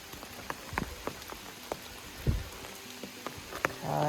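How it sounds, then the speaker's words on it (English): Rain falls on the Appalachian Trail near Lost Mountain Shelter, a steady patter with scattered heavier drops striking close by and one brief thump near the middle, with no voices. "it is muddy and rainy"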